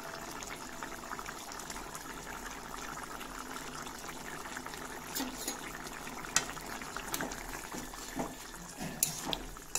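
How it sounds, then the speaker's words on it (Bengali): Fish pieces slipped into a simmering potato fish curry bubble and gurgle steadily nearby, with occasional small splashes and spoon taps over the low, continuous liquid sound, and no voices. "এখন দিয়ে দিচ্ছি মাছের পিসগুলো দিয়ে দিচ্ছি"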